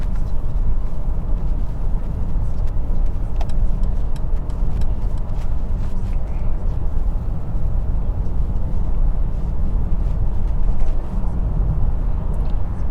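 A 2022 Mercedes GLE350 4matic SUV with air suspension cruises at about 47 mph in seventh gear, giving a steady, low cabin rumble of road and engine noise heard from inside.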